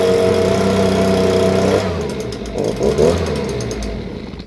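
A Stihl BG56 leaf blower's small two-stroke engine on half choke, running loud and close with a steady buzz, then dropping and sputtering unevenly before surging briefly.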